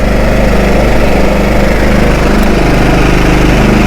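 Small inverter generator running steadily, a close, loud, constant engine drone with a buzzing mechanical hum and no change in pitch.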